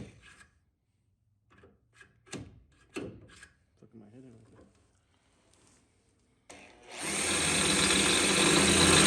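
A power drill enlarges a hole for brake lines on an F-body car. After several seconds of people talking and handling sounds, the drill starts up loud and close and runs continuously to the end.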